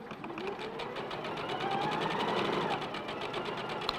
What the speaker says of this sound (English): Just doing a bit of chain piece in here just to save a bit of time.